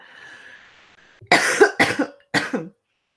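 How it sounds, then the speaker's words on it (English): Three sharp coughs ring out close up after a faint background hum, the first two in quick succession and the third after a short pause. "I wish this cough would just go away."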